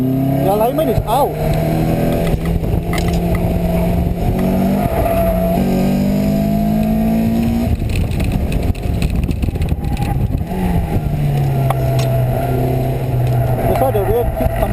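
Lotus Elise with misaligned wheels and a loose rear driven hard around a race track, engine droning steadily with rising and falling revs, people talking over it.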